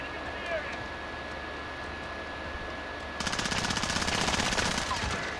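Thermite rounds fired in a custom mini battle royale video game: quiet ambient game noise, then a loud, rapid burst of automatic fire that rattles on steadily for the last two seconds.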